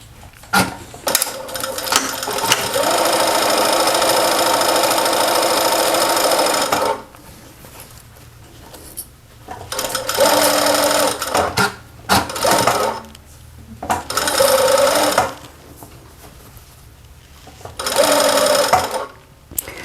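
Sewing machine stitching a round seam on a fabric welding cap: a long continuous run of about six seconds, then several shorter bursts, close and loud, with faint movements between runs.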